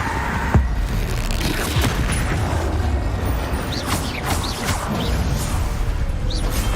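Confringo blast spells going off in Hogwarts Legacy amid loud, continuous combat din, with repeated booming impacts and crashes and sharp whooshing bursts layered through a dense, steady background.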